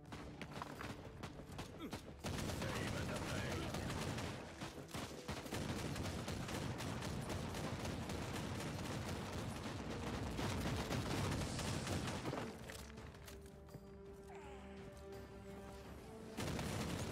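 Bursts of rapid gun turret fire in Warhammer 40k Inquisitor Martyr, dense loud volleys that stop and start, with booms and battle clatter between them and a quieter stretch near the end.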